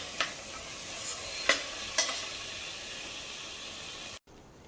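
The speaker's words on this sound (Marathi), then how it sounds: "तांदूळ घालते तांदूळ थोडा परतून घेतल्यानंतर मग आपण स्टॉक घालणार आहोत" Rice sautéed in a pan before mutton stock is added for Kolhapur-style mutton alani bhat, with a soft continuous sizzle and a few sharp spatula scrapes against the pan, ending abruptly.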